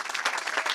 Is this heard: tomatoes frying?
no